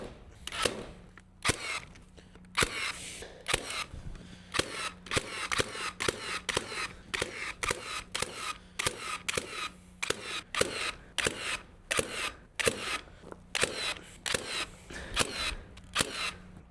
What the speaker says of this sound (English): All right, we're gonna start with the nail gun.